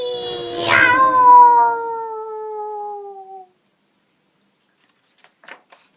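A single long, drawn-out meow that sounds like a voice imitating a cat slowly fades away, followed by silence and a faint rustle.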